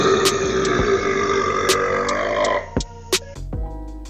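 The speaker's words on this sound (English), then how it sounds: "He just chugs 2 liters of Coke and lets out a classic, dignified belch." Long, deep belch from someone after chugging 2 liters of Coke, loud and close, rumbling steadily before breaking into a few shorter gulping bursts at the end.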